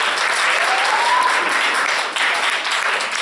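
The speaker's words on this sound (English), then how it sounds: "I honestly think you guys should give her a round of applause again" An audience at a church talent show breaks into loud, dense applause that sustains evenly from start to finish.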